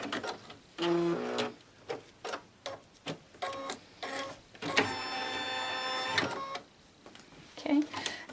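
An embroidery machine stitches to tack down a ribbon for an in-the-hoop zipper bag, rapid mechanical chattering in short repeated bursts with one longer run, close by, with a voice talking in between.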